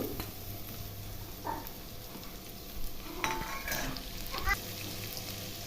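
Finely chopped onions and tempering seeds frying in hot oil for a spiced sprouted green gram snack, with a steady close sizzle broken by a few sharp stirring clicks and scrapes.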